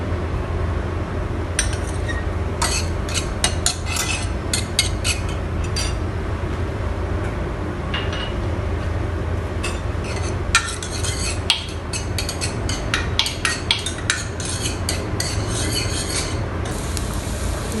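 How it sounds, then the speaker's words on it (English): Garlic sautés in a little oil for kimchi stew, a steady close hiss of frying under repeated metallic scrapes and clinks of a utensil against the pan. "I add little oil. Then I saute garlic."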